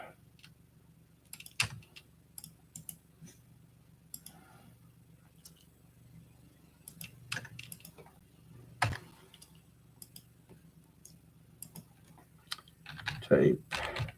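Sparse, soft clicks of typing on a computer keyboard while editing a cooking video, scattered keystrokes close by in a quiet room with faint background hum.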